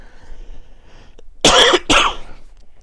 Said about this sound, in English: Oh, God, I do not want to cough again.